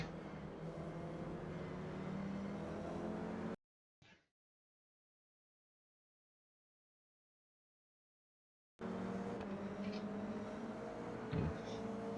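Toyota GR86 race cars in the iRacing simulator give a continuous droning engine hum that cuts to silence for about five seconds, then returns at the same steady level.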